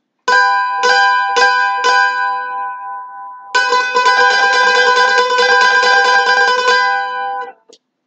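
Bright plucked mandolin strings sound a double stop, first struck several times separately, then rapidly tremolo-picked in a shimmering sustained roll before stopping.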